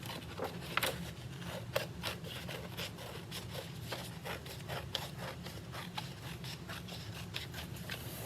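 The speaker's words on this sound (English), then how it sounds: "I'm gonna cut right on that seam, that line right there" Scissors cut through a sheet of green paper along a folded seam, a run of crisp snipping and crunching strokes close by in an irregular rhythm, with no speech.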